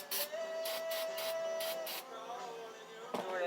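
Brake cleaner sprays from an aerosol can onto brake parts of a 2011 Subaru Forester. Several short close bursts hiss one after another, then a longer continuous spray follows, loud and with no talk over it.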